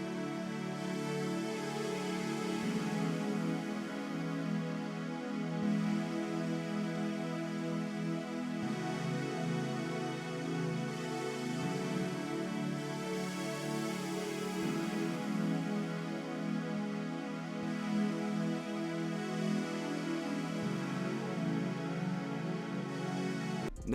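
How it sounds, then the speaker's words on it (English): An ethereal, atmospheric synth chord progression built in FL Studio for a beat, with sustained, layered chords shifting every few seconds in a soft, even loop with no speech over it. "So this little chord progression sounds like this."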